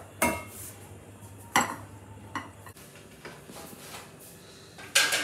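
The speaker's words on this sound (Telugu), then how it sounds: "ఇప్పుడు నేను దీన్ని డిష్ అవుట్ చేసేస్తాను." Paneer butter masala is dished out with utensils clattering, giving sharp, scattered clinks and knocks of metal on cookware over a quiet kitchen background.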